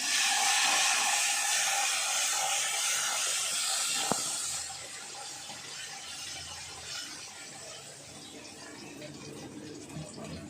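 Curry leaves, coriander, dried chilies and asafoetida sautéing in hot oil while making banana flower kootu, a loud steady hiss and sizzle that eases off after a few seconds and then crackles on more quietly.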